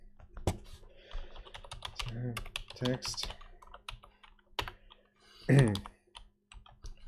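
Keys clack on a computer keyboard in short irregular bursts and single taps, close and crisp, with someone speaking briefly between the keystrokes.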